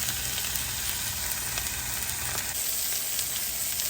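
Salmon fillet frying in a hot pan gives a steady, close sizzle with crackling pops, continuous and fairly loud throughout, with no one speaking.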